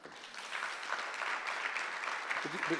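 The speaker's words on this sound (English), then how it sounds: "That deserves some applause" Steady applause from a conference audience at the Smart City Expo USA 2025 fills the room at an even, dense level, and a voice begins speaking near the end.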